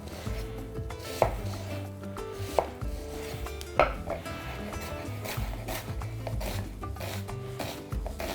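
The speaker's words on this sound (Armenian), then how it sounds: "Կկտրատեմ այն փետրաձև կամ մանր կտրատենք, որ ավելի հարմար լինի լցոնելու համար" A knife chops onion on a board for stuffed eggplant filling, with a run of quick, close, crisp cuts and a few heavier thuds at irregular intervals.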